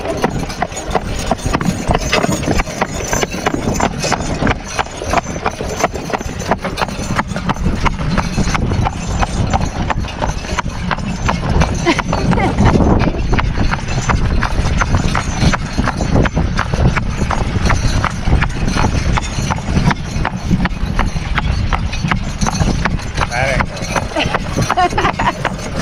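A horse's hooves clip-clop steadily on the road while pulling an Amish buggy ride home, a loud continuous trotting rhythm close by with occasional voices.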